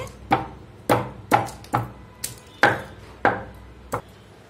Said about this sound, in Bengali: এখানে এলাচ দারচিনি সবকিছু দিয়ে আমি একটু থেতো করে নিচ্ছি।